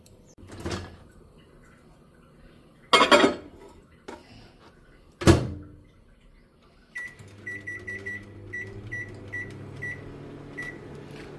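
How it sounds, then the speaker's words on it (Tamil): A microwave oven heating vegetables: a few loud door and latch clunks, then a beep and a steady low hum with faint repeated clicks as it runs. "இதை வந்து மைக்ரோவேவில் ஒரு அஞ்சு நிமிஷம் வச்சு எடுத்தேன்"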